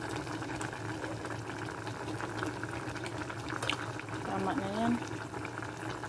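Dugo-dugo, a blood stew, simmers in a pot at a fiesta meal, giving a soft, steady bubbling hiss under close, casual conversation.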